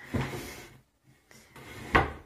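A wooden wardrobe drawer being pulled open in a bedroom closet: a sliding scrape, a brief pause, then a second longer slide ending in a sharp knock, close and clear with no talk.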